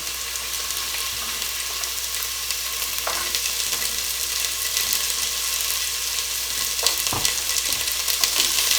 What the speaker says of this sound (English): Stir them up just a little bit there.